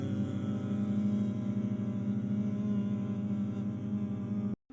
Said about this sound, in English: I recorded a bunch of different vocal layers of me singing different notes